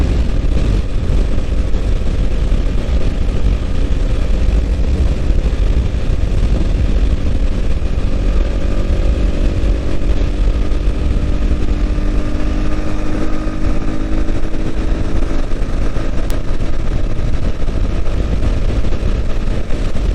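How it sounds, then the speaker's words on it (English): A Honda CB250R motorcycle gives a loud, steady engine drone while riding, heavily mixed with constant wind rush. The sound continues without a break for about twenty seconds. "A motorcycle is definitely always fast. It feels fast, it feels nimble."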